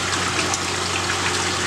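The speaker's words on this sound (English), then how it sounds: "Every tank has a water feed coming into it" Water from feed lines trickles steadily into fish tanks in a plumbed fish room, a continuous close splashing hiss over a low steady pump hum.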